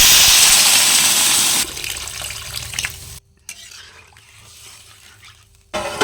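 Water gushes into a pan of frying kohlrabi, a loud steady pour for the first couple of seconds, then fading into softer hissing and sizzling with brief quiet gaps.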